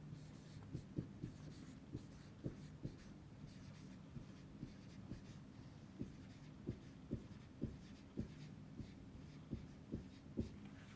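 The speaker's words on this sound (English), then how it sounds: "let me write down here." A pen writes on paper in a run of soft, close strokes and taps, fairly faint, forming an irregular rhythm of scratches with small thuds, and no one speaks.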